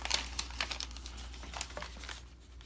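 Sheets of paper being handled and crinkled during a paper craft project, a close, soft rustle of scattered crackles and crisp rubbing that runs throughout at low volume over a steady hum.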